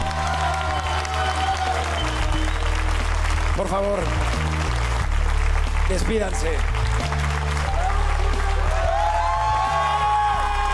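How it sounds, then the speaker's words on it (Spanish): A pageant crowd applauds and cheers the contestants at a televised gala, with sustained applause under a host's speech and loud music. "gran aplauso a ellas."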